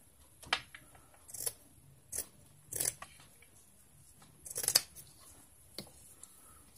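Scissors make about seven crisp, separate snips while cutting fabric for a Christmas jar craft, close up in a quiet room with short pauses between cuts.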